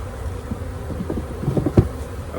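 Honeybees buzz close by while a bee package is installed in a hive, a steady insect hum with a few sharper passes near the end.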